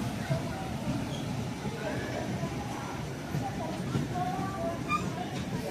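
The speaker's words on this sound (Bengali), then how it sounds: "রেনিগুন্টা স্টেশন ছেড়ে দিল দুরন্ত এক্সপ্রেস" The Duronto Express rumbles steadily out of Renigunta station, with faint metallic squeals and a background murmur of crowd noise.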